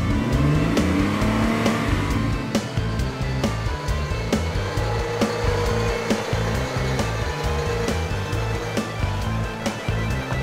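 A Tonka Climb-Over toy truck's motor whines loudly and continuously, revving with rising and falling pitch as it tows a flatbed logger truck up a steep slope, with no talking.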